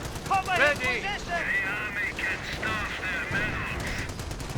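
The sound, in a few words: Nebelwerfer rocket barrage and gunfire in Company of Heroes video game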